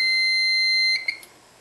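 A piezo buzzer driven by an Arduino Nano no-contact water detector holds a sustained shrill electronic tone for nearly a second, then stops with a few soft clicks and quiet background.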